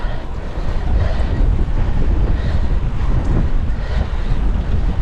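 Strong, continuous wind on a hill buffeting the microphone, a loud low roar with gusty fluctuations and no voices.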